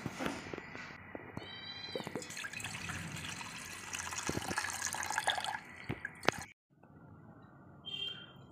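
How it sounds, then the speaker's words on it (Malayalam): Water is drained out of a fairly mature tender coconut, making a close, soft, continuous trickle for about six seconds before it stops, with a brief faint squeaky tone near the end. "ആദ്യം കരിക്കിനകത്തെ വെള്ളം നമുക്ക് ഊറ്റി മാറ്റാം."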